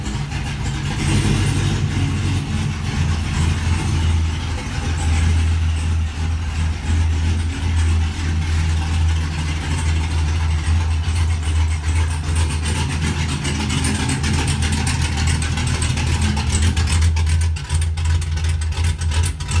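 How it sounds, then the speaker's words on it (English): A modified car engine fitted with a new cam, different pulleys, different injectors and an E85 flex fuel sensor idles loudly and steadily on its first start, with a deep, heavy rumble and no speech. "this video shows very first fire up after me and my brothers just got done putting the cam in, different pulleys, different injectors"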